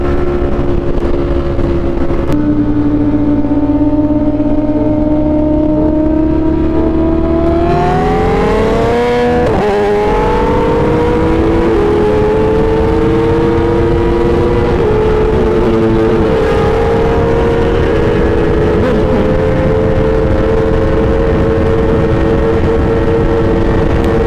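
A Ducati Streetfighter V4 motorcycle at top speed on a highway gives a loud, sustained engine whine that climbs in pitch and then holds high over roaring wind, with no voices.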